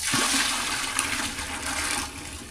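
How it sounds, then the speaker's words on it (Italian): A toilet flushes in a market restroom in Peru, a loud rushing gush of water right at the start that carries on as a steady wash before easing off into a fading trickle. "Per tirare l'acqua si fa così"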